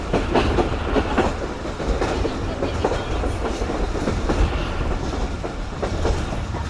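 Rehman Baba Express train running with a steady, loud rumble and rhythmic clickety-clack of wheels on rail joints, continuous throughout, no voices.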